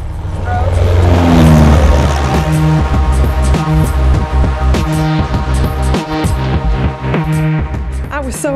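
A small propeller airplane's engine runs up to a loud throbbing roar, then settles into a steady, pulsing hum that carries on without a break.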